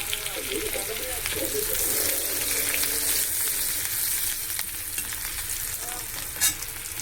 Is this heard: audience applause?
no